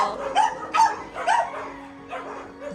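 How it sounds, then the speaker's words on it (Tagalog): A dog barks and yips several times in quick bursts, fairly close, with short pauses between, then a softer whimpering bark near the end. "Kaya po nagtatatahol yung aso."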